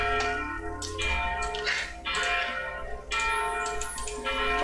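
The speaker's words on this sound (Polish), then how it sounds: "jak słychać po prostu dzwony kościelne" Church bells ring steadily with overlapping tones that swell and fade in long strokes, resonant and sustained, with no voices.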